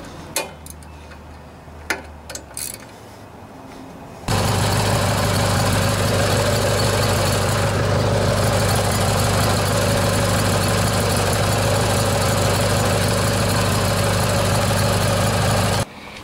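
A Briggs and Stratton opposed twin engine on a riding lawnmower starts after a few clicks and handling noises, then runs loud and steady with a dense rumble for the rest of the time, close by and with no talking.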